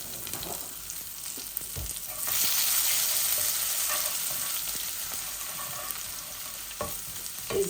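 Garlic fries in very hot oil with a loud continuous sizzle and crackle, and a spoon scrapes and stirs the pan now and then, while cooking begins for an ilish fish dish.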